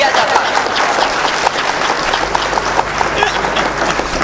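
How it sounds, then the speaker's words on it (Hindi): An audience at a Hindi comic poetry gathering claps for the poet, loud continuous applause with crowd noise and voices mixed in throughout. "अगर आप ऐसी ताली बजाते रहेंगे"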